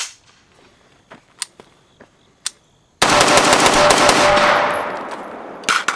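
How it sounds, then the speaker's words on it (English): A PSA JAKL AR-style rifle gives several crisp, close mechanical clicks as its trigger is worked, then a loud, broad burst of noise that fades, followed by a couple more sharp clicks. "Do a little trigger action for you."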